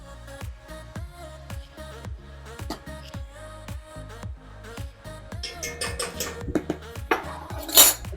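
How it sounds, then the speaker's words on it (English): A spoon scrapes and knocks against a pot as flour is stirred into garlic, a steady run of clinks and scrapes that grows busier and louder toward the end. "And we're going to give this a nice stir"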